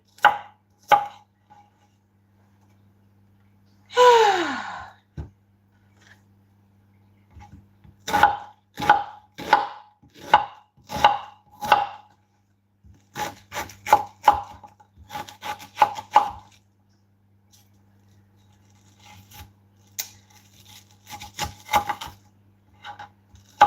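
Knife chopping onions in a video game, heard as bursts of quick, crisp rhythmic chops alone and close, separated by short pauses, with a brief whooshing swell early on and faint steady hum underneath.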